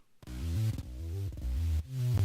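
A dry synth bass plays a short, bouncy melodic line with punchy, separate notes, upfront and unprocessed, without talk.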